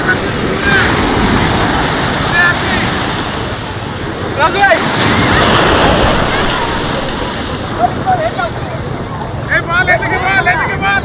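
Sea waves surge and break on the foamy shore at Cox's Bazar beach in a loud, continuous roar with gusts of wind, while people talk and shout nearby.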